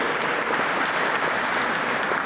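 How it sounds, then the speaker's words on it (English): Loud, dense applause from a crowd at a business gala in New York City, steady and continuous throughout with no voices standing out. "you can applaud that, absolutely."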